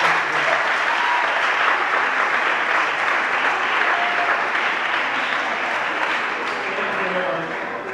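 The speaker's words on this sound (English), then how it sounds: "Please, can you give me a round of applause?" An audience at a debate session breaks into a round of applause, a thick, continuous roar of clapping from a large crowd that holds steady for several seconds and eases slightly at the end.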